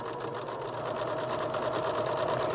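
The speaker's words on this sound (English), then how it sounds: "So I'm just going to sew a little bit so you get the idea." A sewing machine fitted with an embroidery foot runs steadily, stitching close rows with slightly loosened tension, its rapid even needle chatter continuous and close throughout.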